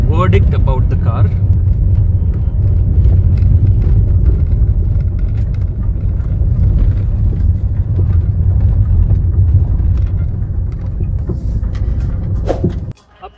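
A 2014 Toyota Etios Cross with over 117,000 km climbs a slope in second gear. Its engine gives a steady, loud, low rumble under someone talking throughout, then cuts off abruptly near the end.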